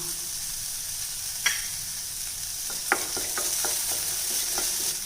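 Mango rice mixture sautéing in a pan with asafoetida, a steady sizzle running under a few sharp spoon scrapes and clinks against the metal, close up and with no talking.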